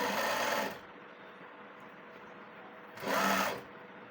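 Two bursts of sewing machine stitching on a salwar seam, a short run at the start and another near the end, with a quiet pause between them and no talking.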